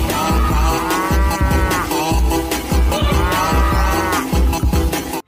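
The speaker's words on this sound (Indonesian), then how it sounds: "Iki jenenge hewan sapi." Cattle moo repeatedly in the video game Jurassic World Evolution 2, long drawn-out lowing calls overlapping one another against rhythmic game sounds, with no talking.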